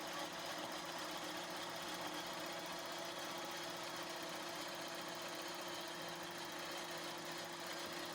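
A JUKI quilting sewing machine stitches through fabric layers with a steady, faint mechanical hum and rapid, even needle chatter throughout.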